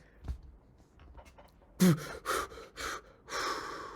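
A voice imitates a freediver coming up and sharply gasping for air, with a few loud, close breathy bursts after some quiet, faint rustling.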